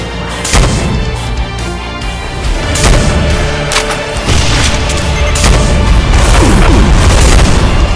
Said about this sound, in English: when you hear that large explosion, that's basically the mod telling you, okay, you can come back now